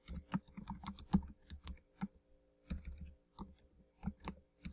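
Close, crisp typing on a computer keyboard while a job ad gets written, with irregular bursts of clicky keystrokes separated by short pauses and no talking.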